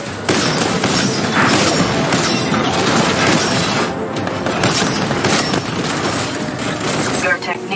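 Dense, continuous gunfire and explosive booms from a Titanfall 2 battle, loud and close throughout with overlapping bursts, thuds and crashes, and a voice speaking under the barrage.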